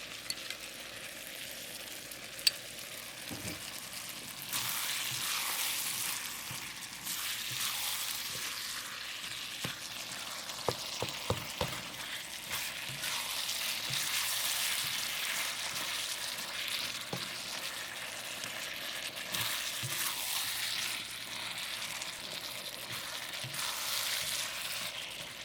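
Food stir-frying with oyster sauce, later joined by onions: a loud, steady sizzle and hiss that goes on for the whole stretch, with a few scattered clinks and stirring knocks from the pan and no speech.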